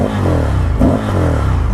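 A 2020 Indian FTR 1200 motorcycle fitted with Akrapovic exhaust cans revs up close and loud, a deep throaty rumble with a brief sharp rise in the middle before settling back to a pulsing idle.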